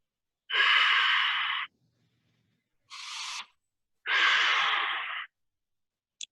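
Slow, relaxed breathing during a breathing exercise, with a long airy breath, a shorter one, then another long exhale, each separated by quiet pauses, close and alone.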